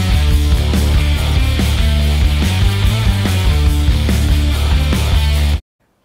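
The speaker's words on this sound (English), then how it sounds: "If your KTM or Husqvarna two-stroke TPI sounds like this at steady throttle" A 2019 KTM 250 TPI two-stroke motorcycle engine with a running issue held at steady throttle makes a loud, close buzzing drone with regular rhythmic pulsing surges, then cuts off abruptly.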